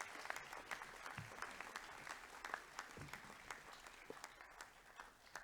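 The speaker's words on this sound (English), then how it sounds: "we'll give them a round of applause" A school information-evening audience applauds students modelling uniforms, with steady, moderately dense clapping heard from some distance and slightly faint but continuous throughout.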